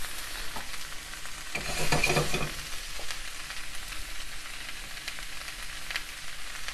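Wine cap mushrooms, maitake, cabbage and Chinese broccoli stir-frying with veggie noodles in a pan, a steady close sizzle that swells into a louder burst of frying for about a second before settling back to a crackling hiss.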